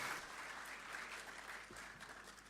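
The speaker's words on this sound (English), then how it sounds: "Another round of applause" Applause from an audience at a formal launch ceremony for Ghana's SDGs report, steady dense clapping filling the whole stretch at moderate level.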